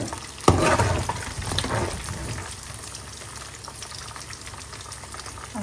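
Chicken sizzles and bubbles steadily in hot oil, with a sharp clatter near the start, then a continuous frying hiss throughout.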